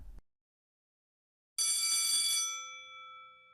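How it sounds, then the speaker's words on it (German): An electric school bell rings once for recess, a bright metallic ring that starts abruptly, holds about a second, then decays, alone with no talk. "The bell rings for recess."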